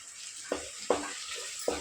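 Turmeric frying in hot oil with ginger-garlic paste for mutton paya gravy: a steady close sizzle, broken by three sharp spoon clinks against the pan.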